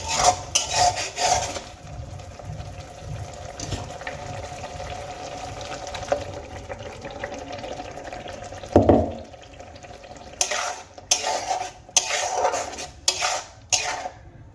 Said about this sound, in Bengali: এবার আমি বেশ কিছুক্ষণ মশলাগুলোকে ভেজে নেব।